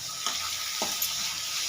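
Grated carrot, beans, cabbage and capsicum frying in hot oil with chillies, a steady close sizzle broken by a few brief stirring scrapes, no voices.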